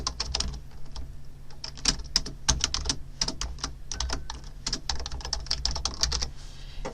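Rapid, steady typing on a computer keyboard while entering text into a Microsoft Access form, with close, crisp keystrokes in irregular bursts and no voices.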